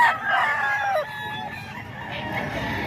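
A stag gamecock rooster gives a single crow, close and clear, with the call falling off near the end over faint background noise.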